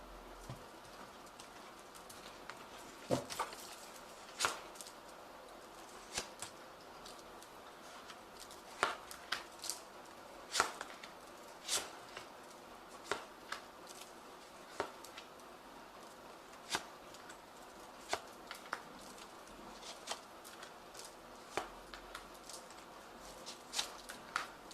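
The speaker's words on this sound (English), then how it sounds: "I have shuffled this deck." Soft, intermittent riffling and flicking of tarot cards, quiet and close, with scattered sharper snaps and faint birdsong cooing in the background.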